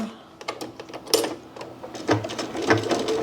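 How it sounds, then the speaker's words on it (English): A sewing machine stitches denim jeans during an alteration, running in short, close bursts of rapid mechanical clatter with brief pauses between them as a back stitch locks the seam. "Couple of stitches, back stitch to lock in the stitches, and just gently ease away from the original stitch line."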